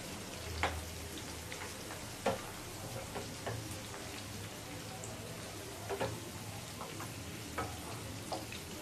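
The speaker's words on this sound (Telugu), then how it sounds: "ఇవి మంచిగా లైట్ గోల్డెన్ కలర్ వచ్చే వరకు ఫ్రై చేసుకుందాం." Sweet corn kernels deep frying in hot oil until light golden, a soft continuous bubbling sizzle with scattered faint pops and a few stirring taps, quiet and without voices.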